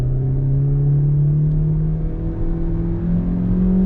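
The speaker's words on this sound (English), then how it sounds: "I'm gonna go ahead and engage the sport mode and then give it a little bit more gas." A 2021 Hyundai Elantra SEL accelerates in sport mode from inside the cabin, its engine note rising steadily in pitch with a smooth, continuous whir and road rumble beneath.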